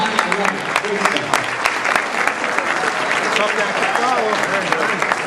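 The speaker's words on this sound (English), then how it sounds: "let's keep that round of applause going" Wedding guests at a reception applaud after a best man's speech, sustained close clapping with scattered cheers and voices mixed through it.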